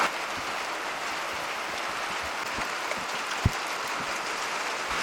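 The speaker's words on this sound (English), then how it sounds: "Rain delay. Man, it is really coming down." Heavy monsoon rain comes down hard and steady, a dense close hiss with scattered louder drops and one sharp splat, and no voices over it.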